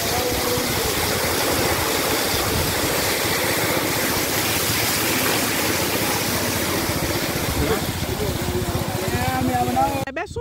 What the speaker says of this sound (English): I decided to buy some water from these local water tankers to see how the tank fills out